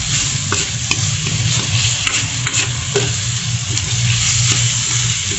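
Cooked shrimp paste (bagoong alamang) stirred in a pan for pinakbet: a steady, close sizzle runs throughout, with light utensil clicks and scrapes from stirring and no talking.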